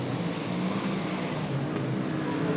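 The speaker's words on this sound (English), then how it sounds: "The sights, the sounds of V8 dirt modified racing here at Brisbane's International" V8 dirt modified race cars racing at Archerfield Speedway in Brisbane, a dense, loud, continuous roar of several engines droning together.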